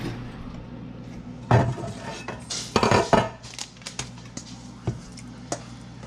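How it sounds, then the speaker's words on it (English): Egg muffin mixture is ladled into muffin cups, giving a run of close clinks and scrapes of the ladle against bowl and tin, with a busier cluster of clatter in the middle, then scattered lighter taps. "now we're going to ladle these in and top with cheese and bacon"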